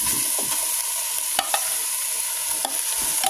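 Squeezed ground santol sizzles steadily in a pan while a utensil stirs it, with a few sharp scrapes and taps against the pan, close and continuous.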